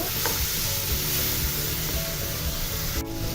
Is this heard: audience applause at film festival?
no